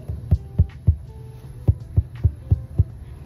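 Taut fabric stretched in an embroidery hoop tapped with a finger like a small drum, giving eight dull, close thumps in two quick groups of three and five, with no talking.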